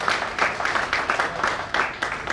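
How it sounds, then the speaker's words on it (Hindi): An audience claps at a foundation's anniversary celebration, a short burst of fairly loud, rhythmic clapping with a pulsing, almost unison beat. "एक बार बेदी जी में जोरदार तालियां प्लीज"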